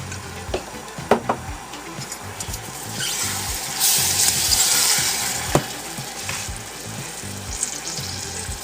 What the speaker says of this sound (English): I'm stirring and stirring